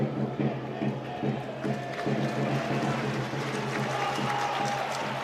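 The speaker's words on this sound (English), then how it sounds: "Chesterfield crowd urging their side forward" Chesterfield football crowd at a League Two play-off match against Walsall, a steady stadium roar with rhythmic clapping and chanting urging the team forward, loud and continuous with a low hum underneath.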